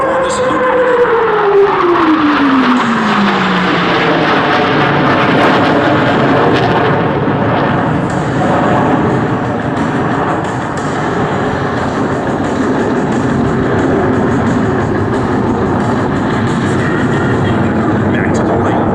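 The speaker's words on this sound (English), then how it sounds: "Pilots pull into the vertical. They will experience 4 times the force of gravity as they perform this looping maneuver." Blue Angels jets at a 2012 Sioux Falls airshow give a loud, sustained roar while they pull into a vertical loop, and a falling whine fades early on. An announcer speaks over the engine noise.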